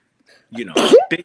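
A single sneeze bursts out close by, a short voiced build-up breaking into a sharp, breathy release with a brief tail, in a casual conversation about books.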